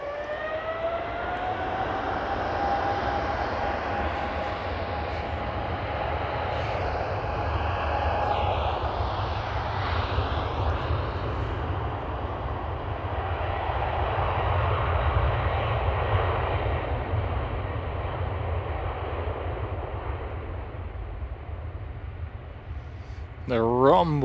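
Qatar Airways Boeing 777 with GE90 engines climbing out from the center runway at Amsterdam Schiphol, a loud, continuous broadband rumble with a rising whine that holds steady for the whole stretch, heard outdoors with wind and faint talk.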